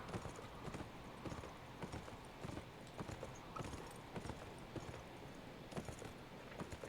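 Horse hooves clip-clop steadily in the video game Beyond: Two Souls, a regular trotting rhythm of close, distinct hoof strikes over a soft ambient background, with no talking.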